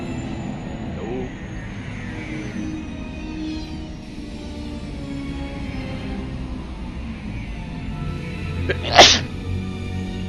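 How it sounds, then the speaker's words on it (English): A single sharp sneeze from a man close to the mic near the end, over a steady backdrop of Star Wars KOTOR II game sound with engine-like hum and low music. "Sneezing myself. Should have done that inside of my shirt."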